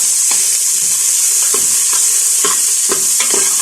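Onions sautéing in a pan give a steady, loud sizzle with a spatula scraping and stirring at intervals, close up and with no voices.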